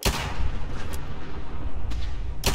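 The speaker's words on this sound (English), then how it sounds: "just explosions everywhere, I guess" Fallout 4 combat, dense and loud, with rumbling explosions and sharp gunshot cracks layered together, with bursts at the start, near two seconds and at the end.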